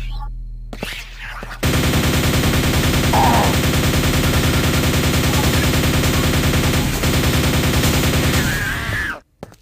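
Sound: nail-firing weapon shooting in video game Quake 2 Ground Zero

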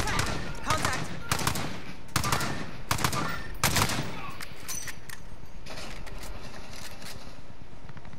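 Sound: gunfire shooting at enemies in a video game

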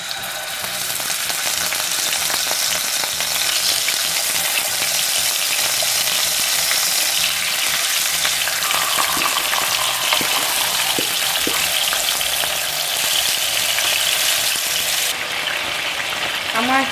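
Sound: chicken frying in oil

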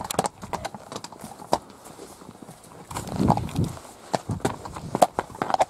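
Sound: horse hooves walking

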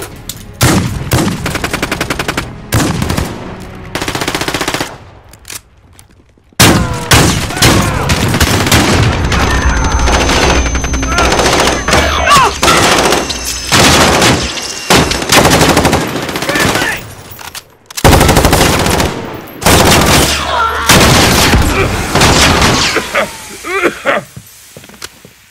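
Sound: gunfire in video game Call of Duty Modern Warfare

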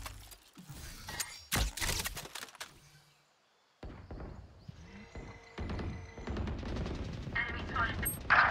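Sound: gunfire in a shooter video game

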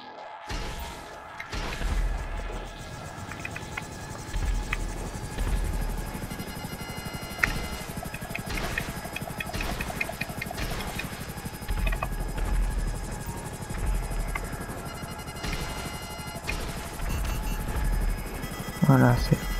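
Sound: helicopter in video game GTA 5 Online

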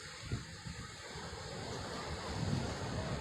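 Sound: sea waves at Laboni beach, Cox's Bazar

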